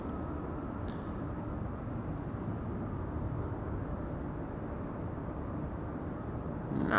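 Jet engines rumble at Schiphol Airport, a continuous low, distant drone that holds steady and swells slightly at the end.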